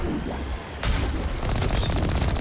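Gunfire and explosions in the video game Mass Effect 1 Legendary Edition: a low rumbling boom, then a sharp loud blast followed by a dense rattle of rapid shots, close and forceful.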